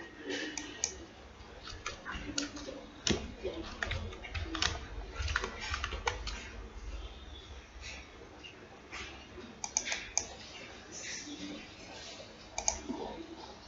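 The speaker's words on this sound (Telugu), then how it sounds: "సేవ్ క్లిక్ చేశాను." Computer keyboard typing mixed with mouse clicks, a close, irregular run of light taps and clicks that continues steadily throughout with a faint low background hum.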